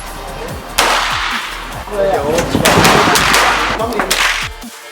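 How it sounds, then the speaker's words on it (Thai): Sharp gunshots from .22 and 9mm pistols ring out repeatedly at an outdoor military camp range, loud and close, in irregular bursts with short pauses between. "กิจกรรมสุดเร้าใจครับกับการยิงปืนจุด22แล้วก็ปืน 9 มม ครับ ที่สนามยิงปืนค่ายนเรศวรครับ"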